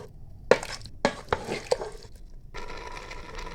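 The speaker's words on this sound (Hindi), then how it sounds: "अब हम इस दोनों को मिक्स करेंगे अच्छी तरह, माशाल्लाह यकजान कर देंगे हम चिकन और शलजम को।" Chicken and turnip being mixed together in a pot, with several distinct scraping and clinking strokes of a spoon against metal, followed by a softer steady cooking sizzle.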